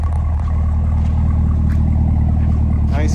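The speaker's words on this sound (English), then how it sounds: "Nice rumble to that exhaust." A 2021 Chevrolet Camaro ZL1 1LE with the Extreme Track Pack gives a loud, steady, deep exhaust rumble close by, holding an even idle throughout.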